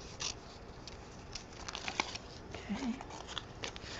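Scissors fussy-cutting paper for an altered mixed media book, quiet irregular snips and soft paper rustles at close range, with a brief spoken word.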